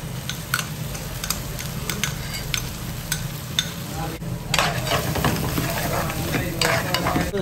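Stirring a paste of chilli, ginger, garlic and tamarind in a pan, with a steady close scraping and sizzling broken by sharp spoon clicks against the vessel, and no voices.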